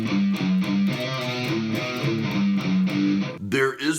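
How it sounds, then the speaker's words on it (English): A distorted electric guitar plays a chugging, palm-muted metal riff between chords with steady repeated low notes, loud and upfront, ending in a brief squealing flourish. "I'm kind of adding some palm mutes to it. Sounds like this."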